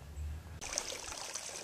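Spring water pours from the pipe of a spring box, a steady close trickle and splash running at a little under three gallons a minute. It starts abruptly after a brief low rumble and carries on unbroken.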